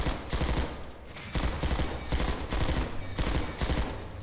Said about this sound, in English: so this is without recoil control, but just burst firing.